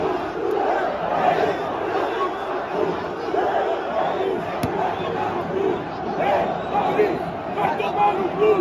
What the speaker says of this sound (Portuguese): vou deixar aqui no final o recado, né, da torcida do Vasco presente aqui pro Maurício Souza